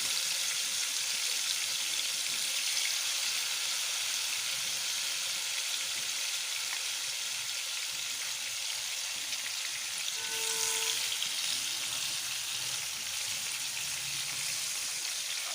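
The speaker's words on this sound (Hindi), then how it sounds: "इसको शैलो फ्राई करना है, ये अपनी ही पानी में गलेगी" Chicken pieces shallow fry in a pan with a steady, close sizzle and crackle that runs the whole time, with a brief clink of utensils partway through and no speech.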